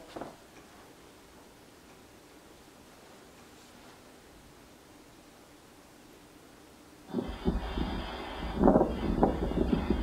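Gusty wind buffets an outdoor backyard camera microphone on a winter day in South Jordan, starting quiet and then rushing in loudly with rough, blustery roars partway through.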